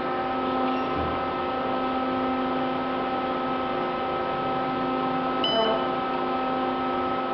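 An Otis hydraulic elevator runs in a Holiday Inn Express hotel in Cherokee, North Carolina, giving a steady, even electrical hum with layered tones throughout. A brief soft beep or chime comes near the end.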